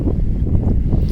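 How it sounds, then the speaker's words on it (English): Wind at an outdoor dog park buffets the microphone, producing a loud, low, rumbling roar that stays steady throughout with no voices. "It's really windy."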